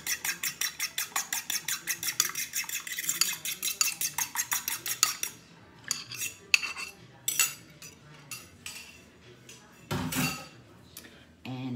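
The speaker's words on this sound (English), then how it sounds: "Need one egg beaten." An egg whisked in a bowl for a paper-thin pecan lace cookie batter, with quick regular clinking beats for about five seconds, then scattered utensil clinks and taps.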